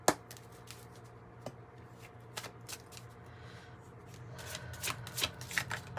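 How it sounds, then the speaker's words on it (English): Tarot cards are shuffled close by, a quiet run of soft riffling flicks and slaps that grows busier toward the end. "Let's get some tarot cards here for Scorpio."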